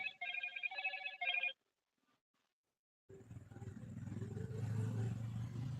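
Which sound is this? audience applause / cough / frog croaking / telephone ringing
telephone ringing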